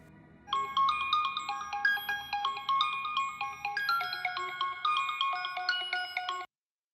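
A phone ringtone plays a repeating melodic electronic pattern, loud and close, for about six seconds before cutting off abruptly, with no talking over it.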